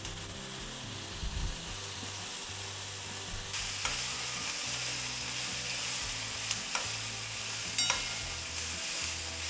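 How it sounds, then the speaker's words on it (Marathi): Chopped onion sizzles steadily in hot oil in a pan, with soft scraping and stirring strokes coming through now and then, close and moderately quiet. "एक 5 मिनटं तरी हा भाजायचा आहे आपल्याला कांदा"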